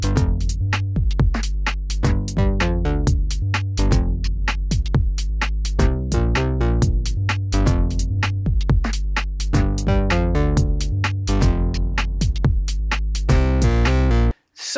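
Two interlocking basslines from a Melbourne Instruments Delia synthesizer, a steady, dense run of plucky notes with a strong low end, loud and continuous for the whole stretch before cutting off abruptly at the end.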